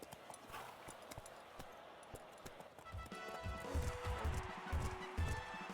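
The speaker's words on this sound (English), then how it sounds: "The horses are on the track" Racehorses' hooves in the video game Gallop Racer 2004 drum in quick, rhythmic clip-clop beats that grow louder and heavier midway, over a bed of crowd noise and soft music.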